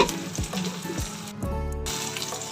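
Chicken pieces coated in turmeric sizzle and fry in a pan, with steady crackling and a few stirring scrapes and clinks.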